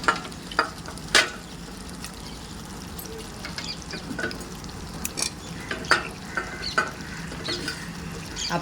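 Prawns dropped into hot masala oil, frying with a soft steady sizzle and intermittent sharp scrapes and clinks of a spoon stirring against the pan, close up with no talking.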